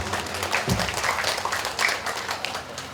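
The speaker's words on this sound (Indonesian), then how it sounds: "Tepuk tangan untuk kita semua." A church congregation applauds at the dedication of a Toraja church building in Minanga, a dense, even wash of clapping that fills the room and holds steady from start to finish.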